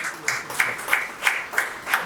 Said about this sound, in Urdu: آپ کی بہت ہی بھرپور تالیوں میں تشریف لاتے ہیں جناب یونس ہمدم صاحب۔